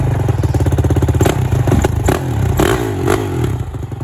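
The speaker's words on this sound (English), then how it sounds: "So Dan's gonna start the bike" A 2006 Honda CRF450R dirt bike engine runs close and loud with a fast, rough, rhythmic thump, and a few sharp clattering blips break through as it revs.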